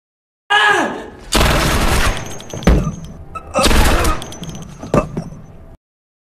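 Loud bursts of rapid gunfire in several volleys from a Japanese film series, separated by brief pauses and sharp single thuds, with the booming, processed feel of a film soundtrack.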